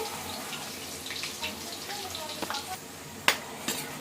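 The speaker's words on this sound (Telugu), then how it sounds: "ఇదిగో ఎల్లుల్లిపాయ చితకొట్టి వేస్తున్నాను చూడండి" Crushed garlic frying in a pan for a flat bean fry, a steady soft sizzle with scattered crackles and a couple of sharper pops, close by, with a voice speaking over it.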